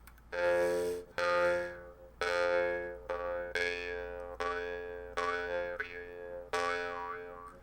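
A jaw harp, played with an open throat, twangs a series of resonant buzzing, cicada-like notes, each struck and left to ring, with a wavering, wah-like shift in tone.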